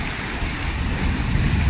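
Steady rain pours in cloudy weather near the KLCC towers in Kuala Lumpur, a dense, constant hiss of falling water with a low rumbling undertone throughout the short stretch.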